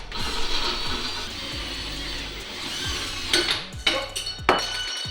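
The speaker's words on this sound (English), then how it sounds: "So we're gonna drill them out." A power drill whines steadily while drilling out nuts on a race trailer's wheel, then gives way to sharp metallic clanks and short bursts of grinding near the end.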